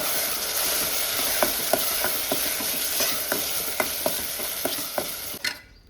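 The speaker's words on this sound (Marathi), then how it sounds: "तो मसालो मातसो भाजून घेवंक जाय." Masala spice paste of soaked Kashmiri chillies roasting in a pan for catfish ambot tik: a steady close sizzle with repeated light scraping stirs, about a dozen soft knocks, ending abruptly.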